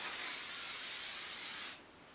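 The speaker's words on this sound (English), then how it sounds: "Find yourself a nice lightweight medium hold spray for fine hair, and just literally, again," A lightweight medium-hold hairspray misted onto fine hair from arm's length, a single loud, close, continuous hiss that cuts off sharply near the end.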